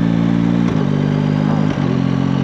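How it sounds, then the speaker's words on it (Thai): A Yamaha MT-09 Y-AMT automatic-clutch motorcycle rides at low revs, around 2,000 rpm. Its loud, steady engine hum dips briefly twice as it shifts gear, then settles back to the same drone. "เราลองเปลี่ยนเกียร์ปุ๊บนะเดี๋ยวเราลองขี่ด้วยรอบต่ำๆดูนะ"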